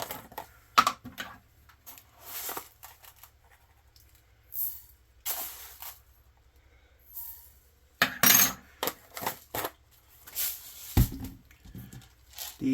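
Mustard seeds measured out for homemade garam masala rattle and patter into a container in scattered short bursts, with quiet gaps between them.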